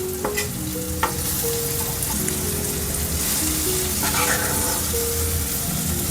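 Creek fish fries in a pan, a steady bright sizzle with clatter as the pieces are turned, heard close and continuous, with faint tonal background sounds and no talking.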